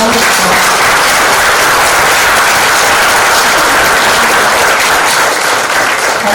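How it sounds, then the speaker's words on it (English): Loud, sustained applause from a large audience at a formal ceremony marking 30 years of India-Israel relations, dense continuous clapping filling the hall without a break and with no talking over it. "give sir a round of applause."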